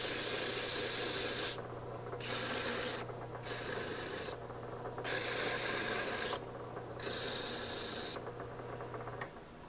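Rhythmic, hissing strokes of sandpaper rubbing against a spinning wood turning on a lathe, close up, in repeated passes with short gaps over a steady motor hum.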